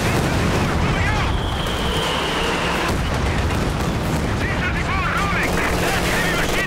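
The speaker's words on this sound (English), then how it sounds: "That machine gun's alive?" Heavy battlefield fire in the Company of Heroes 2 strategy game, with a machine gun chattering amid a dense, continuous wash of gunshots and explosions, loud and sustained throughout.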